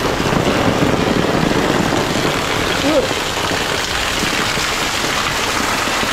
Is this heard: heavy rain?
yes